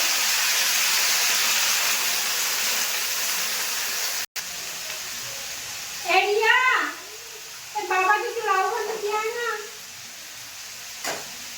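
A pressure cooker holding potatoes, chillies and vegetable peels with a little water lets out a steady, loud steam hiss for several seconds, then cuts off abruptly. Voices talk afterward.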